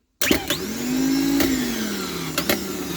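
A BMW E36 starter motor is bench-tested, whirring up with a steady mechanical whine after an initial click, then spinning down, with sharp crackling spark snaps near the end, close and loud.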